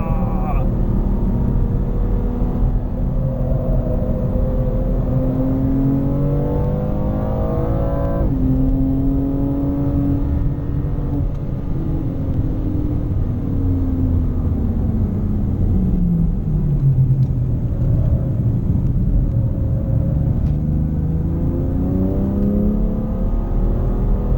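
A 2019 BMW M2 Competition lapping the Sepang race track, heard from inside as a steady loud engine drone whose pitch rises and falls through acceleration and braking, with someone talking over it throughout.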